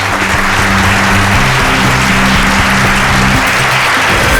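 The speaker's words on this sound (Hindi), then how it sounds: "तालियां।" Loud, continuous applause from a crowd at a magic show, with a steady tonal hum running beneath the clapping.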